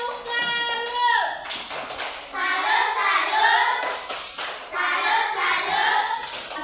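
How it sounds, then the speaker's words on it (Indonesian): Schoolchildren in an Indonesian classroom clap their hands together in bursts, mixed with their chanting voices and a teacher's prompting, close and lively. "Ayo tepuk tangan."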